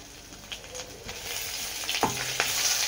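Ingredients for kids' noodles being sautéed in a pan, a continuous sizzle that builds in intensity, with a few scrapes and clinks of a spatula and no talk.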